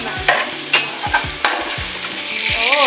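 Crab fries in a pan with oil, giving a loud, close sizzle broken by repeated stirring scrapes and clinks about every half second, with no voices.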